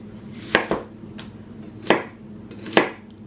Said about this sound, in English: Next, I'm gonna slice my onion.